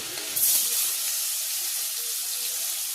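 Garlic frying in a pan for chicken stew gives a continuous bright hiss and sizzle, close and steady for the whole stretch with a slight swell near the start.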